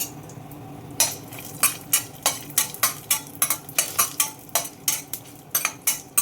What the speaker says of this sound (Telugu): ఇలా వేగనిద్దాం. చూసారా వేగుతుంది.